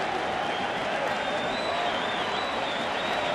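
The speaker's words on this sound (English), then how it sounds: "Crowd gets into it with a 1-2 count." Dense, steady roar of a large baseball stadium crowd cheering and clapping at the 2014 World Series, continuous and full without any clear voice standing out.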